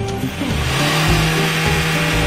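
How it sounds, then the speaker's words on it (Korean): A car engine revving as the accelerator is pressed from outside the vehicle during an exhaust-emissions check: a steady, loud engine roar that swells and holds without a break. "엑셀 밟아주세요."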